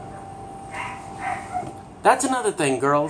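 Faint barks from a household of about five pet dogs come first, then someone talks loudly over them in the closer foreground.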